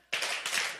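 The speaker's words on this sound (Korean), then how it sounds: "박수! 2번, 1번, 3번" A lecture-hall group claps hands together on cue in a sudden burst of close, crisp claps. A second burst of claps follows shortly after, forming a short rhythmic pattern.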